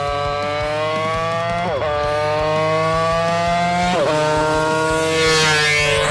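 Honda RC116 small-displacement racing motorcycle engine screaming at high revs, a loud, smooth harmonic whine climbing through rapid gear changes with brief dips between shifts.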